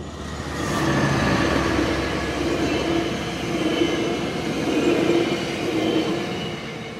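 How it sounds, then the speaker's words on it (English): A westbound Metrolink commuter train passes through Pedley on the Union Pacific line in Southern California in winter, a steady loud rumble of wheels and cars rolling by close, swelling and easing slightly over several seconds with no talk. "A westbound metro link passed through Pedley on UP's LA sub."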